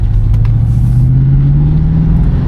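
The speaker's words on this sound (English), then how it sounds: "This exhaust definitely sounds nice." The exhaust of a 1996 Chevrolet Impala SS rumbles with a deep, steady drone, close and loud, its pitch rising slightly as the engine revs up.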